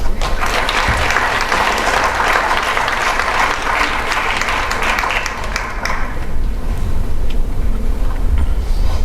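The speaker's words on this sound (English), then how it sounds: "let's give him a round of applause" Applause from an audience at a young entrepreneurs' business pitch event, a loud continuous wash of clapping that holds steady for several seconds before thinning slightly toward the end.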